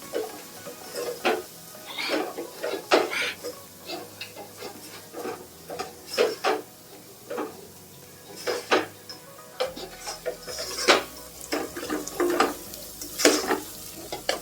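Spice masala sautés in oil for egg biryani with a continuous close sizzle, punctuated by repeated scraping stirs and light clinks of a spoon against the pan.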